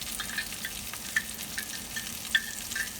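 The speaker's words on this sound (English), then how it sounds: "Turn the heat up to high and stir quickly, coating every bean with the rendered fat and seasonings." Steamed green beans stir-fried over high heat in rendered pork fat with chilies, ginger and garlic, giving a steady close sizzle with a few light scraping stirs and no talk.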